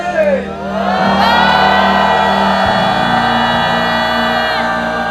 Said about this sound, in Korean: 노래 마지막 끝에는 모두가 함성으로 맞춰갑시다